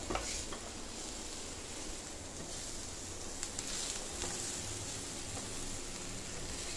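Green chillies and leftover appam batter sauté in a pan for paniyaram, giving a soft, steady sizzle with faint stirring scrapes throughout and no talk.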